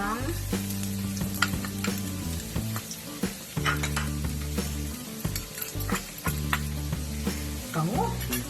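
Garlic frying in a pan for squash and winged beans in coconut milk, a loud continuous sizzle with scattered utensil clinks, under a steady low tonal background hum.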